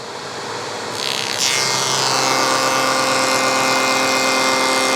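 A hoover fitted with a cyclone dust collector separator starts up, its motor rising within the first second and a half into a loud, steady whine and rushing airflow that then holds constant.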